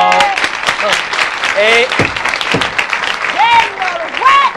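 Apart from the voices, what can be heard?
audience applause in a comedy show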